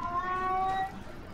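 A cat gives a drawn-out, whiny meow, close and clear against a low room hum, fading after a moment with no talking.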